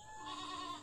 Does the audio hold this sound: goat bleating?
yes